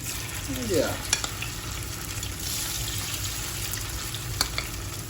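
Chicken pieces for chilli chicken sizzle and crackle steadily in hot oil, a constant frying hiss with occasional sharp pops and a brief clatter near the start.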